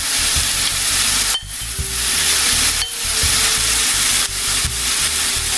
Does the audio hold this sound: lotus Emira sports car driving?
no